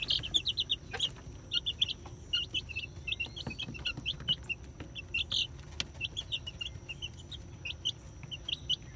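Gamefowl hen and chicks cluck and chirp in short, repeated bursts throughout, moderately close, over a low rumbling background.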